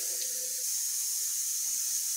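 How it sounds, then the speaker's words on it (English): Water runs in a steady, hissing stream into a container, continuous and fairly close, with no voices. "I'm going to fill it with water."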